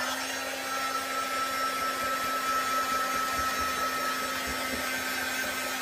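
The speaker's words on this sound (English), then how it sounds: "I'm just getting my heat tool all warmed up here" An embossing heat gun warming up near a craft mat makes a steady, close whirring blow with a constant hum tone, unbroken for several seconds.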